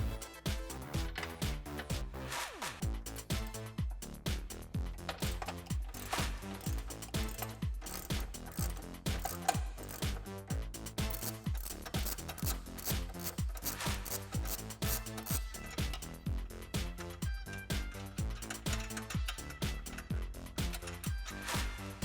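A hand ratchet fitted with an 18mm socket clicks in quick, steady, rhythmic bursts as it tightens bolts on a Jeep Gladiator front bumper, close and fairly quiet, with no talk.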